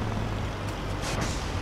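A farm tractor's brakes let out a continuous loud air hiss while a trailer is being parked, a steady rushing sound filling the whole moment with no talking.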